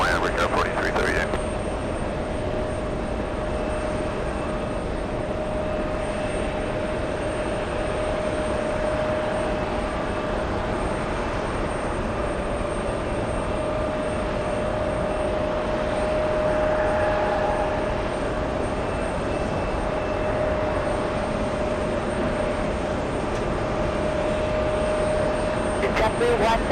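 A steady, distant roar of jet airliners landing and taxiing at JFK airport drones throughout, with a faint tonal whine over it and radio voices talking at times.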